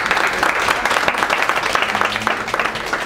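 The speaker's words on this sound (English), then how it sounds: "Let's get some claps." Panel audience at a creator event applauding, a dense steady wash of clapping that fills the clip at even loudness with no pauses.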